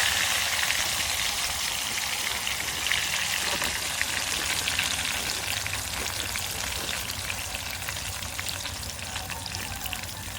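Raw jackfruit chips fry in hot oil, giving a steady, loud, close crackling sizzle. Dense popping bubbles run continuously like heavy rain, and no one speaks.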